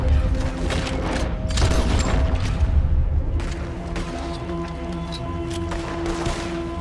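A Gatling gun in Red Dead Redemption 2 rattles off in a dense stream of close, rapid shots, with booming impacts and mechanical clatter underneath and a voice briefly heard.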